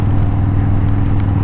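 A big-engine motorcycle cruises at about 2,200 RPM, a loud, low, steady engine drone heard up close without any change in pitch.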